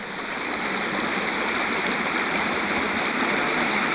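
A stream flows steadily outdoors at night, a loud, unbroken rush and gurgle of water that holds at the same level throughout.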